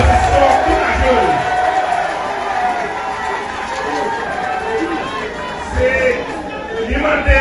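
A crowd at a Haitian political gathering cheers for Senator Moïse Jean-Charles with a loud, continuous mass of voices and shouts, close by and steady for the whole stretch.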